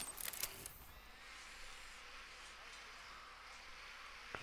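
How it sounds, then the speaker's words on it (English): A faint, steady mechanical buzz from a surveillance drone hums on continuously after a few brief clicks at the start, in the video game Tom Clancy's Ghost Recon Wildlands. "let's send up the drone again"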